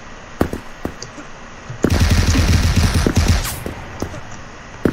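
Gunfire in the first-person shooter Krunker.io: scattered single shots, then a dense rapid-fire burst lasting over a second, followed by a few more isolated shots, loud and close.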